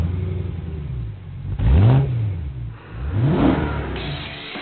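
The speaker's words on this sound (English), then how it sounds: "purpose-built, naturally aspirated 4-litre V8 that revved to 8400 RPM" A naturally aspirated 4-litre V8 in a BMW M3 revs hard twice, each blip sweeping up in pitch and falling back, loud and close with a steady engine drone between the rises.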